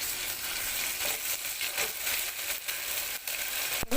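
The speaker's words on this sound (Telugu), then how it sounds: "ఇప్పుడు అల్లం వెల్లుల్లి పేస్ట్లో పచ్చివాసన పోయేదాకా ఫ్రై చేసుకున్నామండి." Ginger garlic paste frying with onions in hot oil, a steady close sizzle that crackles and hisses throughout, with a few brief stirring scrapes near the end.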